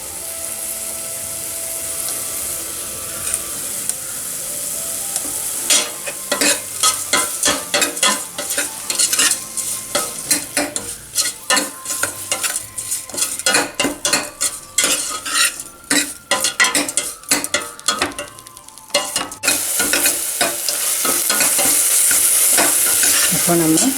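Tomatoes sautéing in a pan for an elephant foot yam sambar, a constant close sizzle under fast, repeated spatula scrapes and clatters that ease off, leaving the frying hiss alone at the end; no talking.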